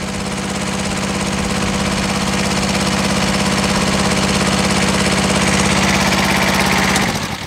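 A CTE 230-7 aerial platform truck's engine runs steadily and loudly at close range, a constant throbbing drone that holds for several seconds before abruptly dropping away as it shuts off.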